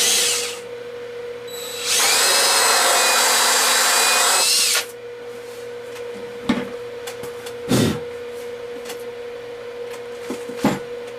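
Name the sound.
drilling hole in foam pumpkin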